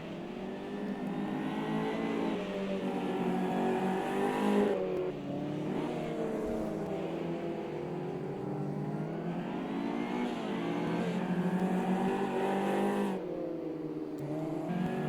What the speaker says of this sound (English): I think Jose has just overtaken him.